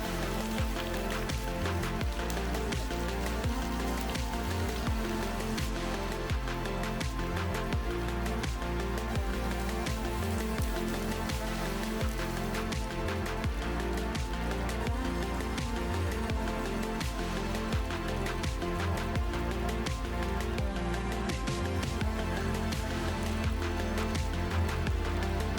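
Steady rain falling around a tub, a dense continuous patter with some watery splashing, heard close and fairly loud throughout with no pauses.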